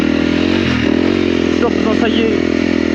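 A 2022 Honda CRF 300L motorcycle rides along with a steady, loud engine drone and road rumble throughout, while someone talks over it in French.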